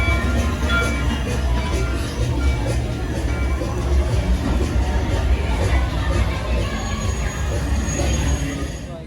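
Steady rumble and rattle of Mickey and Minnie's Runaway Railroad ride train at Disney's Hollywood Studios, a continuous loud rolling noise with faint crowd chatter mixed in.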